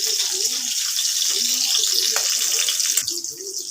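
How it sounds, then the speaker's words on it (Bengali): Water is poured into a cooking pan with mustard spice paste, green chilli, dried red chilli and nigella seeds for a Bhola fish curry, making a steady close splashing rush throughout. "এবার আমি জল দিয়ে দেবো।"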